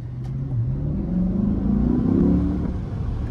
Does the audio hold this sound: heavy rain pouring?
no